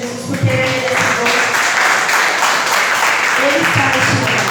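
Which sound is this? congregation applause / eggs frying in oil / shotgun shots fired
congregation applause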